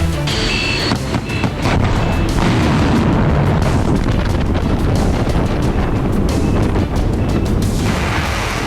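A missile strike explosion in Ukraine booms loud and sustained, a dense roar of blast and wind-buffeted rumble filling the whole stretch with no clear pauses.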